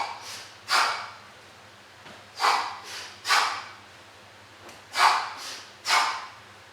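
Six sharp, forceful breaths expelled through the nose and mouth during a samurai lunge core exercise, close and loud, coming in short bursts with pauses between and a low hum underneath.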